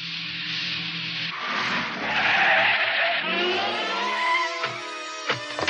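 A car's tires squeal in a long, loud skid that rises and shifts in pitch, ending with a few sharp knocks and thumps.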